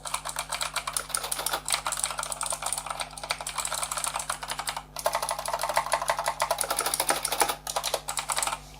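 Rapid, continuous clicking of Razer Green mechanical keyboard switches on a Thermaltake Level 20 RGB keyboard being typed on up close, with brief pauses between bursts of keystrokes.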